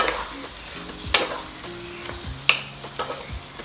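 Vegetables for South Indian sambar get stirred in tamarind juice in a pan, a soft hiss of simmering liquid under a few sharp utensil scrapes and clinks. Short and close, with no talking.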